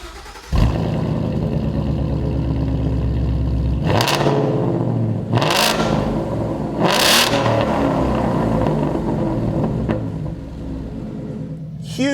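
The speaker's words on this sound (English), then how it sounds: "Huge improvement over the stock exhaust. It's a real aggressive sound" 2015 Ford Mustang GT fitted with a Ford Performance sport cat-back exhaust, starting up and then giving three sharp revs that rise and fall over a deep, steady idle rumble, loud and close with no talk.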